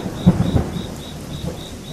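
Heavy rain and thunder in a stormy night scene: low rumbling thunder bursts near the start over a steady wash of rain, with a faint repeating tone in the background and no voices.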